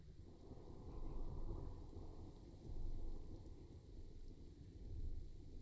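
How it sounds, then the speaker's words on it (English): In the Planet Zoo video game, a thunderstorm rumbles low and continuous under steady rain, with rolling thunder swelling a few times; quiet and without talk. "Stormy up here."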